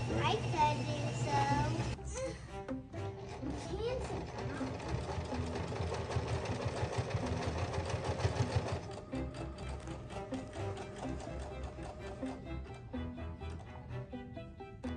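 A sewing machine runs steadily in a child's home sewing workshop, its mechanical whir continuous and fairly close, with children's voices talking over it and other busy household sounds in the background.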